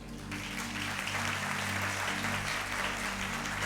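A church congregation applauds during a Sunday sermon, a dense, continuous wash of clapping that fills the room, fairly loud and even, with a low steady hum underneath.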